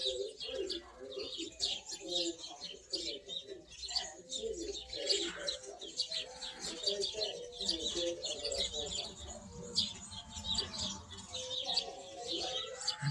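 Many birds chirp and coo continuously in a yard, with dove-like cooing beneath dense overlapping chirps, fairly close and without a break.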